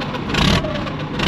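A Russian tank engine roars close and loud in a brief burst of revving, a rough, thick mechanical growl that swells and eases slightly.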